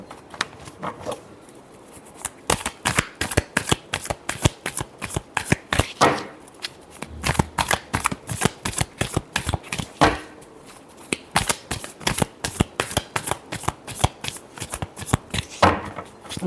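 Tarot cards shuffled repeatedly up close in quick riffling bursts with short gaps between rounds, a crisp papery flutter and no voice.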